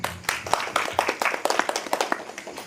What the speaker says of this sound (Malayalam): റിപ്പോർട്ട് പാസ്സാക്കാമെങ്കിൽ നമ്മുടെ വാർഡ് മെമ്പർമാരെ കൈയടിച്ച് പാസ്സാക്കാം.